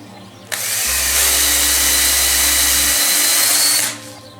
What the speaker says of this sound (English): So what I do is I have a reamer,